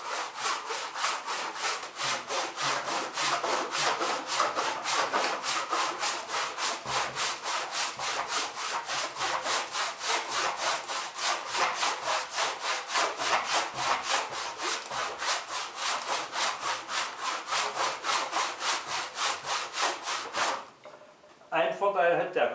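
A hand saw cuts through a heavy, unclamped wood burl in fast, even back-and-forth strokes, loud and close, stopping briefly near the end before resuming.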